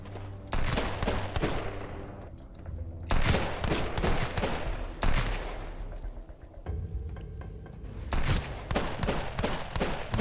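Gunfire in the survival video game Sunkenland comes as dense, repeated bursts of automatic shots with short pauses between volleys, loud and continuous across the scene.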